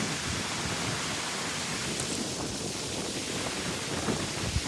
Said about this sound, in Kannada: ಎಷ್ಟು ಗಾಳಿ ಇದೆ ನೋಡಿ